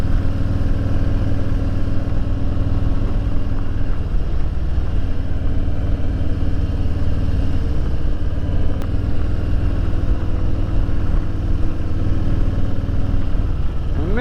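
A Harley Davidson Low Rider motorcycle runs steadily on the road, its deep engine rumble loud and continuous with constant wind noise and no talk over it.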